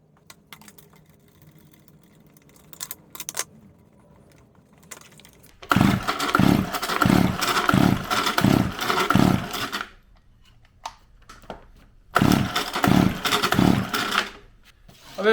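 Stihl 010av chainsaw engine with no spark and low compression, primed with gas in the cylinder and cranked: quiet fiddling, then two loud bursts of rapid rhythmic pulling and sputtering pops separated by a pause.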